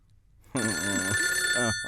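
A telephone bell rings loudly and steadily up close, a bright continuous trill that starts abruptly and runs on through the rest of the moment with no voices.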